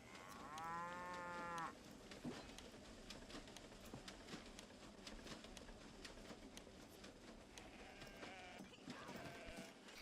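Cattle moo in the Railway Empire video game: a loud, drawn-out moo at the start and a fainter one near the end, over a constant busy backdrop of ambient game sounds and clicks.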